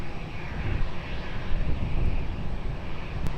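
A steady, broad roar of an airliner taking off at Lisbon Airport swells slightly midway and holds at a moderate distance, with no talk.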